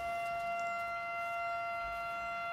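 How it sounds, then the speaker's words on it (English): A volunteer fire department siren in Hope, New Jersey wails with a steady sustained tone, heard faintly from a distance across the evening air. "They're either testing the 8 o'clock siren or they're calling everybody for a fire someplace."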